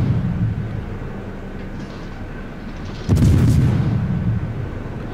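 Naval gunfire from the French tier IX destroyer Le Mogador in a ranked World of Warships match: a low steady rumble of engine and sea, then one loud, close boom partway through that trails into a heavy rolling roar.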